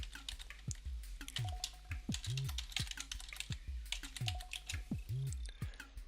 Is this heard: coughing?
no